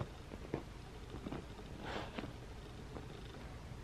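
A pet cat purrs steadily and softly up close for a few seconds, with faint rustling and small taps around it and no one talking.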